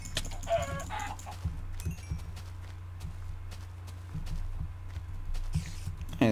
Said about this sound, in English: I have to kill all these chickens.